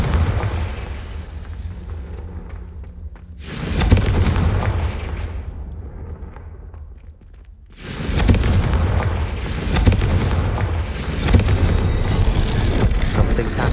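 A Confringo fire spell explodes in Hogwarts Legacy, a video game. Two loud, close blasts hit with sudden broadband booms, each followed by a long rumbling roar, with further bursts layered on top of the second.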